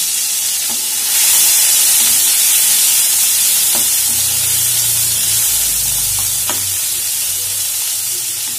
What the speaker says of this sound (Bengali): বন্ধুরা একটু ভেজে নেব, খুব বেশি ভাজার দরকার নেই